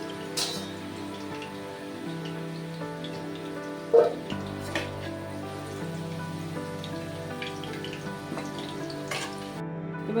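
Cumin, cinnamon, cloves and cardamom frying in hot oil, a steady soft crackle like light rain that runs throughout, with a couple of faint taps and clinks.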